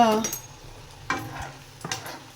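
Gulab jamun frying in hot oil with a few stirring clinks and scrapes of a utensil, brief bursts of sizzle rising and fading across a short span.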